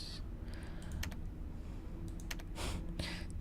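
Keys on a computer keyboard in the Black Mirror 3 video game are tapped in short bursts of crisp clicks over a steady low ambient game drone.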